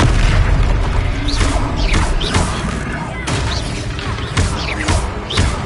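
Confringo spell explosions in the video game Hogwarts Legacy, a dense run of booming blasts and crashing impacts that repeat about every second, loud and continuous amid game combat noise.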